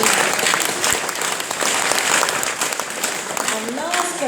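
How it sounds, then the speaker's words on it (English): A crowd at the Kingwood 25-year celebration in Didcot gives Neil a big round of applause: dense, steady clapping that fills the room for several seconds, with some voices mixed in. "big round of applause for Neil anyway"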